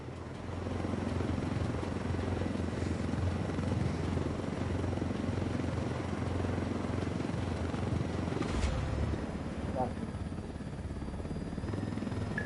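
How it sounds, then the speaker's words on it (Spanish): Helicopter rotors throb steadily and loudly in the Ghost Recon video game, a continuous chopping drone that holds throughout, with a brief sharp burst near the end. "Derribemos esos helicópteros."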